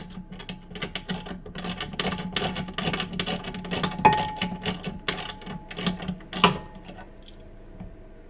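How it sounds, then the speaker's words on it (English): A 3/4 inch wrench ratchets long screws tight on a Rugged Ridge Spartacus HD tire carrier, a fast run of sharp metallic clicks in steady strokes, close up, with brief pauses between bursts. "You need a 3/4 in order to tighten this."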